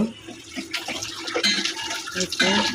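Running water splashes and trickles as fish are rinsed clean by hand, close and fairly steady with small bursts of splashing.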